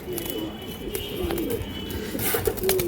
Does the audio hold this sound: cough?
no